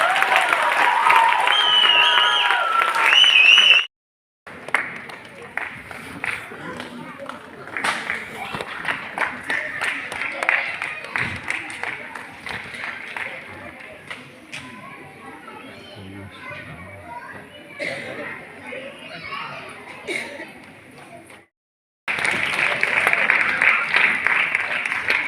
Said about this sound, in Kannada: ಈ ಕಲಾಕೃತಿಯ ಒಂದು ದೊಡ್ಡ ಚಪ್ಪಾಳೆ.